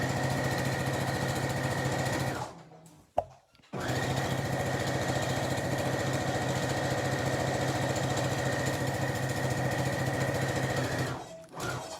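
Sewing machine stitching a fabric draft excluder runs in a steady, close mechanical hum, stops briefly for a short pause with a click, then runs evenly again and winds down near the end.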